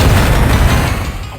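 Homing missiles strike the player's ship in Descent, a loud, close explosive boom with crackling bursts that slowly dies away.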